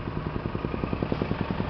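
Diesel engine of a small Bobcat skid-steer loader with four tyres, running steadily at close range with a regular low thudding beat, no talk over it.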